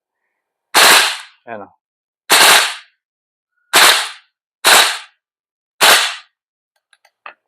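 BCMAIR MCMR 11.5 airsoft gas blowback rifle firing in burst mode: five loud, sharp, close bursts spaced about a second apart, with a short spoken word after the first and a faint click at the end.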